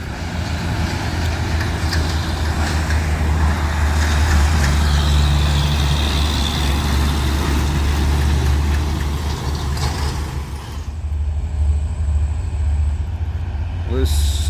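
A Hino truck grinds uphill on the Bukit Kodok climb, its heavy diesel engine a loud, steady, close low drone that fills the whole stretch, with a faint voice now and then.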